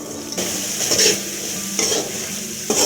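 Chickpea masala sizzles in a pan over a high gas flame as a spoon stirs and scrapes it, with a few distinct scraping strokes over a constant frying hiss, close and clear with no talking.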